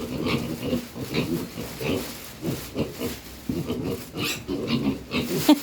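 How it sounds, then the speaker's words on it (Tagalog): Farm pigs grunt and oink repeatedly in a rough, uneven rhythm close by, with people talking faintly now and then. "Nakakatuwa naman na rin mga baboy na ari."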